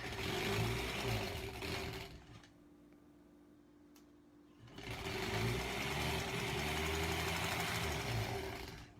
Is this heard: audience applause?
no